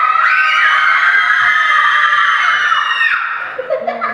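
A group of children scream together on cue, a loud sustained shrill chorus holding for about three seconds before breaking off into scattered giggles and chatter.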